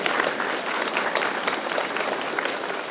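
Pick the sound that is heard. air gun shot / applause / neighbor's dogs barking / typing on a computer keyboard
applause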